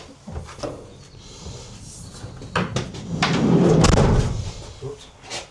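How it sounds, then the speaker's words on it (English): A few sharp van door thuds and bangs, one heavy slam in the middle with a rattling rumble, amid clattering movement. "Shut the door,"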